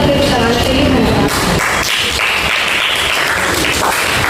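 Brief classroom applause from students after a speech at a government higher secondary school, a burst of clapping that follows a voice and fades over a few seconds.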